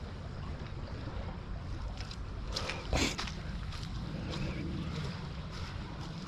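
The Blackwater river flowing on a chilly morning, a steady broad wash of moving water heard outdoors with wind noise buffeting the microphone and a brief louder gust midway.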